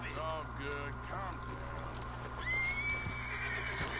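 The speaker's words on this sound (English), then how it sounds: "Get rid of that horse, move it!" A horse neighs and whinnies repeatedly in Red Dead Redemption 2, with clip-clopping hooves in between and an insistent final whinny, over a steady ambient bed.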